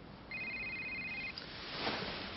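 A muffled electronic mobile phone ringtone from inside a clothing pocket, two steady tones lasting about a second, followed by faint rustling and movement.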